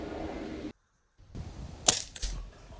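An airgun fires Crosman Premier hollow point pellets at a 20-yard target: a soft muffled thump, a brief silence, then two sharp snapping cracks close together, near and fairly crisp.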